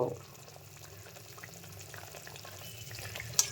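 Pabda fish curry in mustard oil being stirred in a pan, a quiet bubbling simmer with faint scraping and a brief clink near the end.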